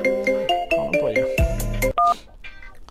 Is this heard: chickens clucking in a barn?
no